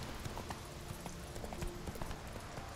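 Faint, steady clip-clop of a horse's hooves at a walking pace in the video game The Witcher 3, soft and somewhat distant.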